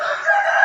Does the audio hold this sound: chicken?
yes